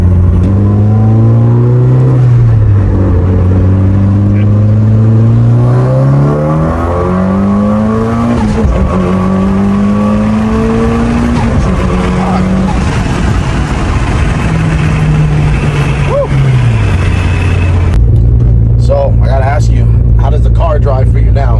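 A tuned Mitsubishi Evo engine is heard from inside the car, pulling loud and close through rising revs and gear changes, the pitch climbing and dropping repeatedly, with someone talking over it.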